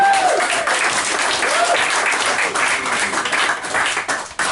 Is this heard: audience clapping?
yes